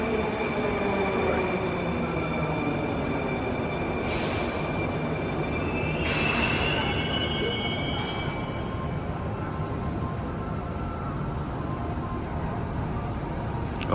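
A Moscow metro train rolls into a station, a loud sustained rumble of wheels with high squealing tones and brief hissing bursts, the noise slowly easing as it arrives; no talk is heard.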